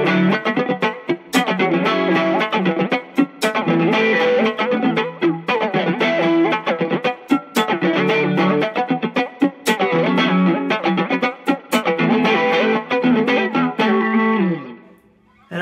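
Electric guitar chords through a Fractal FM3 flanger preset blended with the dry signal, played in strummed rhythmic bursts with a sweeping, swirling modulated tone; loud and alone, ending with a fading ring.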